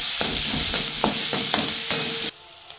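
Chilli, ginger and garlic paste frying in oil for a dosa filling: a steady close sizzle broken by regular spoon scrapes and stirs, ending abruptly as the hiss drops away.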